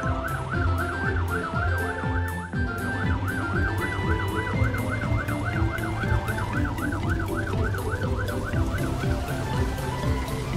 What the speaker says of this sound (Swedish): ett högt larm som alla bilar kan höra